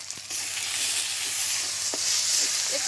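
Steady, loud sizzling of fish frying in a pan with salt, turmeric and a little chilli powder, a continuous hiss with faint stirring scrapes, no voices.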